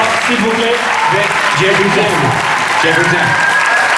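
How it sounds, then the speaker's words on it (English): Audience applause at a Once Upon a Time fan panel during a Paris manga convention, steady dense clapping throughout with a host speaking over it. "On va les applaudir très très très très fort,"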